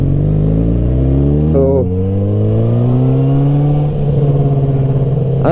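A 1000cc sport motorcycle revs and pulls away under modest throttle, its engine note rising steadily in pitch, dipping briefly at a gear change and then climbing again, loud and close, with a voice speaking briefly at the start.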